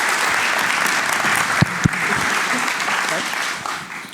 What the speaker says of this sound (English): be welcome on the stage. Give him an applause again.